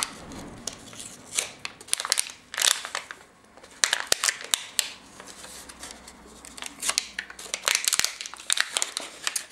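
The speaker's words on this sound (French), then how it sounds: "On va dégainer les ciseaux pour ouvrir." Repeated sharp snipping and crinkling as scissors cut open plastic packaging up close, in irregular bursts with brief pauses between.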